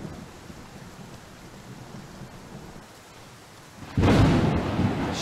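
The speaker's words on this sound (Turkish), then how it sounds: "Yağmur yağıyor yine." Steady rain patters for several seconds in the Car Dealership Simulator game before a loud crack of thunder suddenly bursts in and rumbles on over the downpour.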